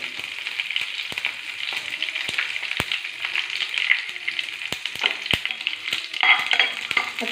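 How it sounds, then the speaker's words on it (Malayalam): Mustard seeds, curry leaves and dried chilies crackle and sizzle in hot oil in a pan for a carrot pachadi, a dense, continuous frying hiss with sharp pops and occasional stirring clatter, close and loud. "കടുക് കൊടുത്ത് ഇതിനകത്തേക്ക് നമുക്ക് രണ്ട് രണ്ട് കറിവേപ്പില ഒഴിച്ച് കൊടുക്കാം ഒരു മൂന്ന് വട്ടിൽ മുളക്"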